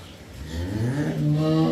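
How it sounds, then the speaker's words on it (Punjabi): A Jersey-type dairy cow on a farm gives a single rising moo that swells and holds steady, close and fairly loud, with no talk over it. "ਅੱਛਾ ਗਾਂ ਵੱਜੀ ਉਹਦੇ ਕਰਕੇ ਥੋੜਾ ਜਿਹਾ ਫਰਕ ਲੱਗਦਾ"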